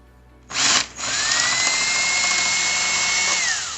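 A power drill with a 3/8 socket backs screws out of a Sanitaire SC6846 upright vacuum cleaner during a rebuild: a short whirring burst, a brief dip, then a sustained high motor whine that fades at the end.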